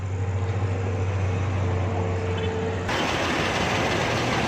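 Car engine running right after being started during a hard-steering power steering repair, a steady close idle hum that abruptly turns into a louder, rougher broadband rush partway through.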